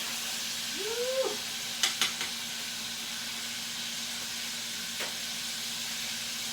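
Food frying steadily in a skillet during Sunday dinner cooking, a constant soft sizzling hiss with a brief rising whine early on and a few light clinks and taps.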